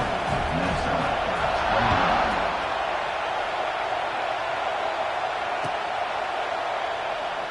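Stadium crowd at an American football game, a broad roar of voices building around a kickoff, steady and loud for several seconds with a brief swell early on, under distant public-address talk.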